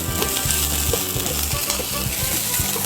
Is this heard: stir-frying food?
yes